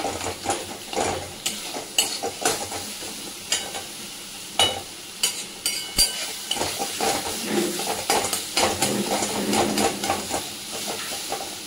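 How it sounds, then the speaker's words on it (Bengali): Ground cumin and coriander sizzle steadily in a hot pan of oil for a Bengali dal and curd catla lunch, with irregular scraping stir strokes and clinks over a constant close frying hiss. "একটু ভাজা ভাজা করে নিই।"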